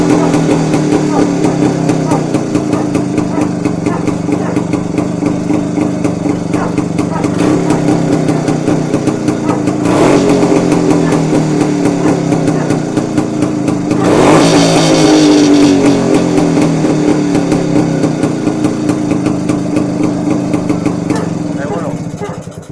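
A Jawa motorcycle engine fitted with a PACCO carburetor runs steadily at a loud, throbbing idle for the whole stretch, with a brief rise in revs partway through and voices under the engine.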